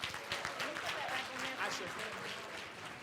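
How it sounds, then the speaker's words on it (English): A round of applause at a morning retreat panel, a steady wash of clapping from the crowd lasting a few seconds, with some voices mixed in beneath it. "So how about a round of applause, please?"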